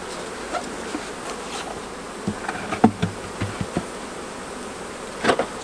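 Honey bees at an open beehive during beekeeping work keep up a dense, steady buzzing, with occasional soft knocks and clicks over the continuous drone.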